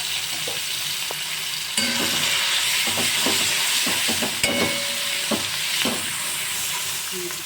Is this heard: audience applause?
no